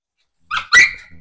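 A dog on a farm gives a single sharp, close bark with a short yelp just before it, then quiet.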